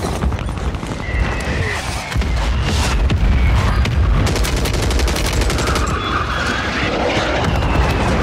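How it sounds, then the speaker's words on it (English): Explosions from a mortar strike in the video game Call of Duty: Warzone, a dense, loud barrage of booms and gunfire-like cracks rumbling continuously for several seconds, with no talk over it. "Mortar strike inbound now."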